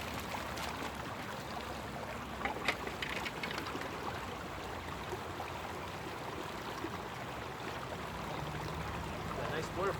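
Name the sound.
water flowing through a gold mining sluice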